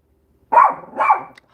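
A dog barks twice at a door, two close, loud barks in quick succession with a brief pause between them and no voices over them.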